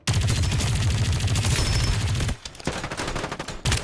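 Loud, sustained automatic gunfire from a chaotic multi-player fight in the battle royale game Farlight 84, dense bursts briefly thinning before another volley at the end.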